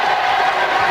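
A French television studio audience applauds and cheers for two families on set, a steady, full wash of clapping throughout.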